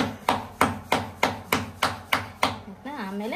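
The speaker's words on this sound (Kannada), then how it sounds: "ಫಸ್ಟ್ ಹಿಂಗ್ ತಟ್ಕೊಬಿಡು." A hand pats dough in eight steady, evenly spaced slaps, close and crisp, and a voice speaks briefly at the end.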